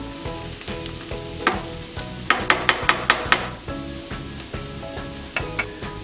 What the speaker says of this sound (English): I'm going to transfer the cooked onions and garlic into the pot that's been simmering now for a little while